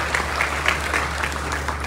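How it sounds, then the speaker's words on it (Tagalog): Audience applause at a morning event in Laguna, a steady wash of clapping hands filling the room for about two seconds with no talking over it. "Palakpakan po natin ulit, Attorney Lawrence Pasha."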